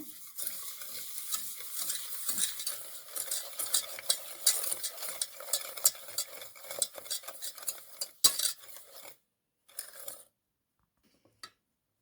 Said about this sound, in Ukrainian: вкинути 150 грамів цукру, гарно вінчиком розмішати.